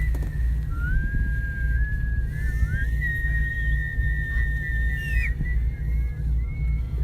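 People whistle outdoors under the northern lights, with a long, wavering tone that slides up and down over a steady low rumble of wind or an engine, and a few other faint whistles join in.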